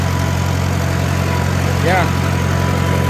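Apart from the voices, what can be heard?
Farmall A tractor engine running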